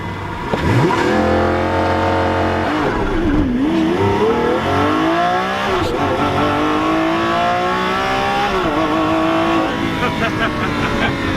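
Lamborghini supercar in thrust mode, engine revving loudly and climbing through rising pitch sweeps, close and dominant, with voices talking over it.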